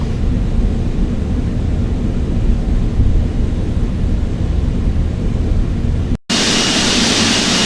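Boeing 777 jet engines in Microsoft Flight Simulator 2020 give a loud, steady, broadband roar. A momentary cutout comes near the end before the roar returns.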